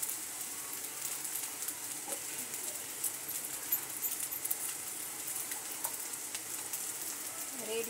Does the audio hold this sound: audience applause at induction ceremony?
no